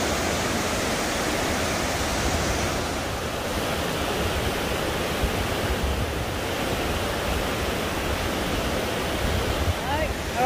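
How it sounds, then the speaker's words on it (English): A waterfall and river roar in a steady, loud, unbroken wash of rushing water, filling the whole span without pause. "Evie and Isaac, look at the waterfall right now."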